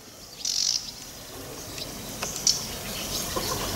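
A small bird gives a few faint, high chirps outdoors amid a quiet background hiss, with brief scattered rustles.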